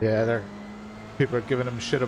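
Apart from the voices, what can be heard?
None of the usual background noises is heard.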